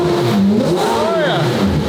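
A car engine revs with a freshly fitted aftermarket exhaust, a rising and falling growl that carries steadily through the whole stretch, with voices talking over it.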